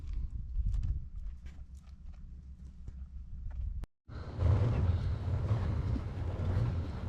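Horses walking on a rural road in Baja California, Mexico, their hooves clip-clopping in a steady rhythm close by for about four seconds before a brief gap and louder, broader road noise.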